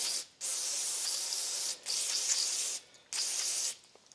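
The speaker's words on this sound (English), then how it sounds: "And then of course, spray it off real good." Three long bursts of aerosol cleaner hiss over a carburetor part from a neglected Ariens snowblower, each blast loud and close, separated by short pauses.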